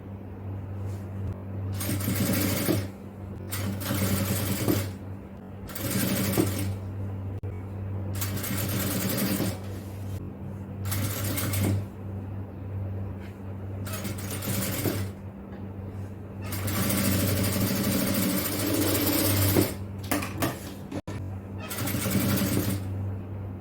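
A sewing machine stitches a rolled hem on garment sleeves in a series of short bursts, each a close, rapid whirring run separated by brief quiet pauses while the fabric is rolled and repositioned.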